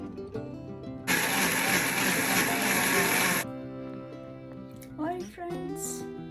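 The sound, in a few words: mixer grinder grinding onion tomato paste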